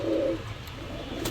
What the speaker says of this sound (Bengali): দর্শক এই এক পেয়ার রামপুরি কবুতর